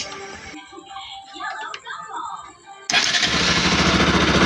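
Starter motor on a Kawasaki RS motorcycle, a fault check of the starter relay wired to the battery positive: sharp, loud whirring crank bursts in at the end after quieter clicking and handling noise, close to the mic.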